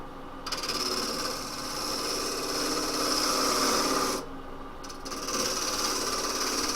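Wood lathe cutting a tenon on a bowl blank: a steady close whirring grind of tool on spinning wood, dropping briefly in the middle before resuming.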